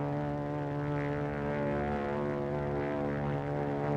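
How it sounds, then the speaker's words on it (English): A propeller airplane drones overhead in a wartime setting, its steady engine hum and layered harmonics holding evenly loud for the whole stretch with no voices. "It's a plane, all right."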